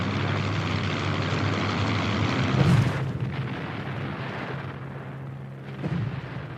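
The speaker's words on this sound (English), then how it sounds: "Goering's Stukas are dive-bombing British and French troops on the beaches of Dunkirk." Stuka dive bombers attack troops on the Dunkirk beaches: a loud, continuous roar of aircraft engines with a heavy blast near three seconds, then a second burst of explosion near the end.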